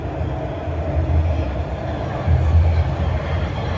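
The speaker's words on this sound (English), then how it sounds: "Alright, here it comes." A TTC subway train arriving at a station, a loud, continuous low rumble that swells twice as the cars roll in, with faint rattling on top and no voices.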